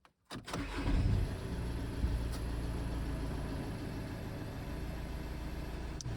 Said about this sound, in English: you can start the car for some seconds.